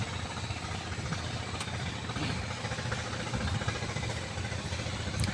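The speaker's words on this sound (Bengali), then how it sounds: "নদী দিয়ে একটা ট্রলার যাচ্ছে, ট্রলারের শব্দ।" A trawler boat's engine passes on a river beside a bamboo grove, a faint, steady low chugging hum heard from a distance under a soft outdoor background with no talk.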